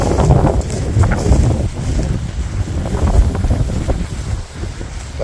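Steady outdoor wind gusting against the microphone on a breezy late-summer farm, a continuous loud low rumble with shifting gusts and no talking.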